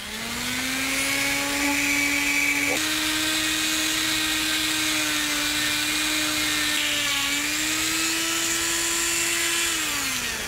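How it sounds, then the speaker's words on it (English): A small buffing wheel on a rotary tool whines steadily with a high motor pitch while polishing corrosion off the plunger of a solenoid from a Lionel operating milk car, holding close and loud for the whole stretch and dipping slightly near the end. "So we'll buff the little bit of corrosion that it has on it."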